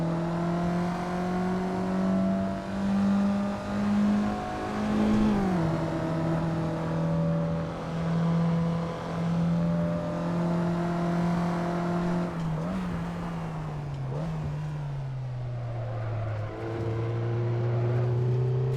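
Race car engine in the Assetto Corsa racing game, droning steadily close up as the throttle is feathered, the pitch dipping and recovering in small wavers and settling lower toward the end, with no voices over it.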